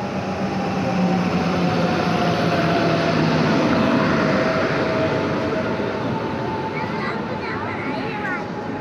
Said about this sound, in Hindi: ये आ रही है सामने, WAG 4 लोकोमोटिव के साथ में